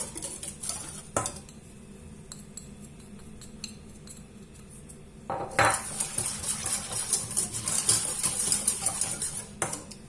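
Metal utensils scrape and clink against a saucepan, stirring ingredients for a no-bake orange cake, starting sparse then growing busier and louder in the second half.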